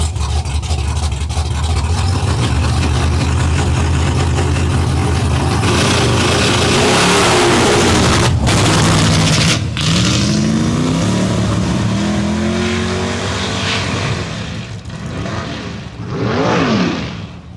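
Mike Posey's big block Chevrolet drag car, Athena, running a nitrous fogger kit, revs loudly and continuously, then snaps off sharply a couple of times before climbing and falling in rising engine sweeps near the end.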